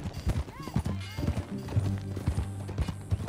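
Horse hooves clip-clopping in the Western game Red Dead Redemption 2, a steady rhythmic trot of hoofbeats under game character dialogue and ambient music.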